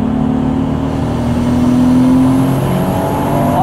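Nissan Skyline R32 GT-R with HKS tuning pulling hard on turbo boost on an empty motorway, a steady loud engine drone with rising tone heard from inside the car, no talk.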